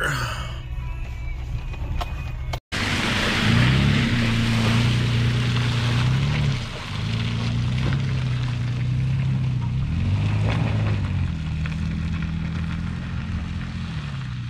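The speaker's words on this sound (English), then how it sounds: "Put that four-wheel drive to work." A four-wheel drive vehicle grinds along a rutted off-road track on the way to a hog hunting spot, its engine droning loud and steady with shifting revs and rough bumps, plus a brief dropout near the start.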